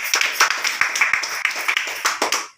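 A small gathering at a Republic Day event claps for Gulab Sahab, with loud, close, slightly uneven claps from a few people in quick succession that fade out at the end.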